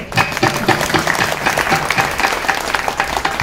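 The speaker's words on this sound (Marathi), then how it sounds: "टाळी वाजवा तर जोरात वाजवा" An audience at a Marathi kirtan claps loudly, producing a dense, steady roar of many hands that fills the whole stretch.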